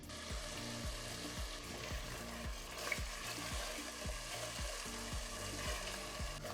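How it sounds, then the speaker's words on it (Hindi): A paste of onion, ginger, garlic and green chili fries in a pan for mutton curry, a soft sizzle broken by a regular series of scraping stirs from a spoon, repeating roughly every half second without talk. "प्याज के इस पेस्ट को हमें 5 से 10 मिनट तक अच्छी तरह से भुनना है।"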